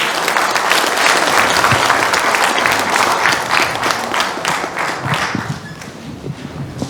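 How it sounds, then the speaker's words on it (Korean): Audience applause for four speakers at the close of a talk show and book launch in Hongcheon: dense, steady clapping from a full room that holds strong for several seconds and then thins out slightly toward the end. "권혁진 박사님, 홍성익 박사님, 전장수 연구위원님, 정성훈 교수님께 큰 박수 부탁드리겠습니다"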